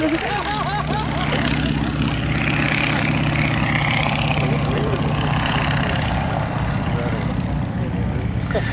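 An aerobatic airplane flown by John Mohr at an air show gives off a continuous, wavering engine drone that stays loud and unbroken throughout, with an announcer talking over it.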